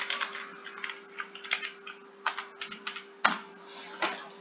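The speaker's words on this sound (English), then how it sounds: "but if we type some stuff in there" Typing on a computer keyboard, quick bursts of light clicking keystrokes with a few heavier thumps, close but quiet over a steady faint electrical hum, with no voices.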